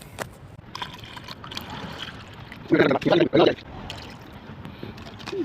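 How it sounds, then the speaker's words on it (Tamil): Water poured into a car's windshield wiper washer reservoir, a short gushing pour of about a second after background hiss and a voice, close and fairly loud. "இருங்க தண்ணி ஊற்றுவோம்"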